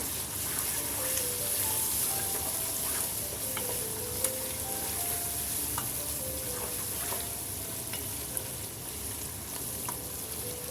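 Chana dal gravy with bottle gourd and garam masala bubbles and sizzles steadily in a pan, with faint scrapes and knocks of a spoon stirring it throughout.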